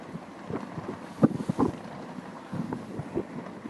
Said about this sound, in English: that is really windy